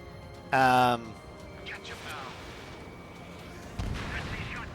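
Jet cannon fire in the combat flight game Ace Combat 7, flown in an F/A-18 Hornet, comes as short, loud bursts among game sounds, including a voice, over a steady background roar.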